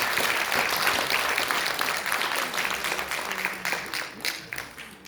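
A crowd applauds at a Korean political party's launch ceremony: a full, continuous roar of clapping that starts loud and gradually thins and fades over five seconds.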